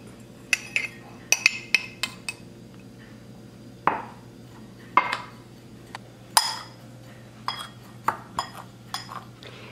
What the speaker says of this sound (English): So now I'll place my 1/3 cup of brown sugar and 1 teaspoon of cinnamon in my bowl, and I'll mix it together